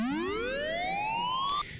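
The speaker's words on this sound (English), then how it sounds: "if we press this panic button, it sets off quite a loud" A panic button siren alarm from the Security Craft mod in Minecraft, a single clear tone sweeping steadily upward in pitch before cutting off abruptly, fairly quiet and alone.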